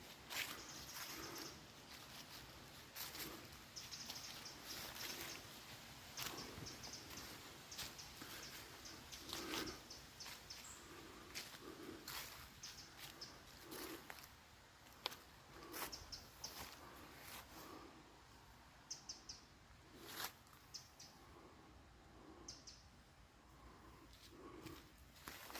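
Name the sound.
birds calling in a wood at night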